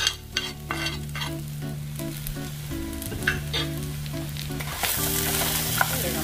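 Finely chopped serrano chile and chicharrón fry and get stirred in a pan, a steady close sizzle with repeated scraping stir strokes, while faint music plays underneath.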